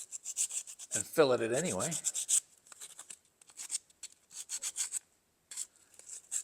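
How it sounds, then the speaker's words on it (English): Sandpaper wrapped around a stick is rubbed over a rounded sculpture surface in quick, faint, scratchy strokes, repeated in short bursts with brief pauses; a few spoken words come early, briefly covering the rasping. "Sometimes it's helpful to wrap your sandpaper around a stick."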